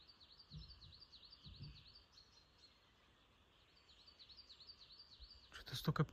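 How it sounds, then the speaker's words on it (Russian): Many birds chirping outdoors in the morning in the countryside, a faint, steady stream of repeated high calls in the distance with a few soft knocks and a louder rustle at the end. "Что-то столько птичек проснулось."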